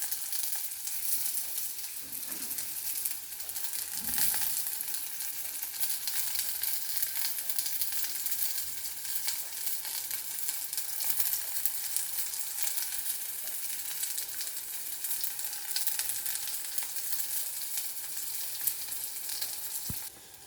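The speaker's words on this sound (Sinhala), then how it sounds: "Let it fry in coconut oil." Bilimbi frying in a coconut oil mix makes a steady, even sizzle with fine crackling spatter, constant and unbroken for the whole stretch.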